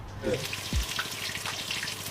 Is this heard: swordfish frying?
yes